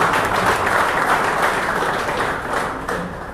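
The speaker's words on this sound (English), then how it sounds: "Can we have a round of applause?" A round of applause from the audience for a panelist at the opening ceremony of a football summit, dense clapping that stays strong and then gradually thins toward the end.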